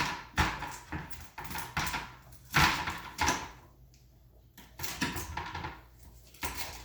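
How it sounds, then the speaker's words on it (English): A knife chopping through an onion on a cutting board in a home kitchen, several sharp thuds and knocks at uneven intervals with brief quiet gaps between them, close and fairly clear. "No fingers were injured in the cutting of that onion."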